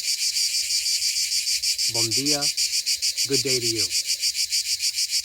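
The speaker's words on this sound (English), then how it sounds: "What you're hearing is cicadas" Dense, continuous pulsing drone of cicadas on a morning in Portugal, loud and steady throughout, with someone briefly speaking a greeting over it.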